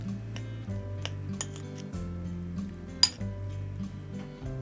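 Chicken filling is mixed with mayonnaise in a bowl, with repeated light clinks and scrapes of a utensil against the bowl over soft background music.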